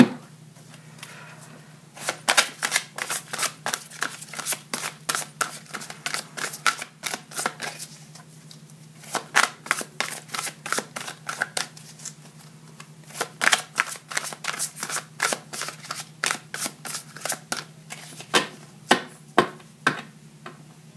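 Oracle cards shuffled by hand in quick, close, crisp bursts of slaps and riffles, with short pauses between runs and a low steady hum underneath, and no talking.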